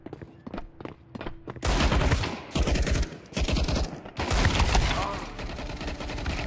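Desert Eagle pistol shots in Counter-Strike 2 Wingman, several sharp blasts in quick succession at close range, loud over game effects and a voice talking.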